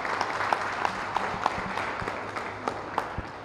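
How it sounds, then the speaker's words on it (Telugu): Applause from attendees at an all-party round table meeting in honour of a chief minister's decision, a steady burst of many hands clapping, fairly close and continuous throughout. "ముఖ్యమంత్రి గారు తీసుకున్న నిర్ణయానికి చప్పట్ల రూపేణ ఒకసారి అభినందనలు తెలియజేయవలసిందిగా కోరుచున్నాను"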